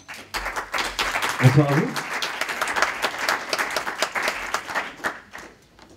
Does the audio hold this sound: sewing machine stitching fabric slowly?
no